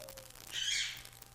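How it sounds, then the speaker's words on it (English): A single brief, harsh screech from a blue-crowned conure stands out faintly against a quiet room hum. "That's Ernie, the blue-crowned conure."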